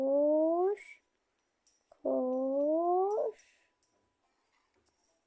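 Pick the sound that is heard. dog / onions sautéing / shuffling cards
dog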